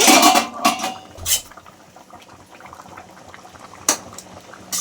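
Potatoes boiling in a pot for crab curry as the lid is lifted, with a few loud metallic clanks of the lid at the start and near the end over a steady low bubbling.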